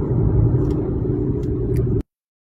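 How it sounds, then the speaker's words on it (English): A car moving along a road gives a steady close rumble of engine and road noise that stops abruptly after about two seconds. "I'm driving, so I have a lot of noise."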